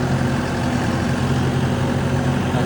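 A tractor engine runs steadily while working on a farm in Italy, a close, continuous low rumbling drone with no pauses or talk.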